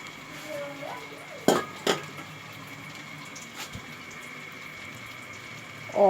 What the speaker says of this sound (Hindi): अब मैं पानी रख रही हूँ,